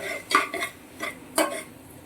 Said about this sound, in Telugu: కారంని కూడా యాడ్ చేసుకుందాం కారం వన్ టేబుల్ స్పూన్ సరిపోతుంది ఇప్పుడు ఇవన్నీ మంచిగా మిక్స్ చేసుకుందాం